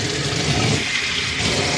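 Water runs steadily from a shower head attached to a sink, a continuous, close hiss of spray and splashing that lasts the whole clip with no talking.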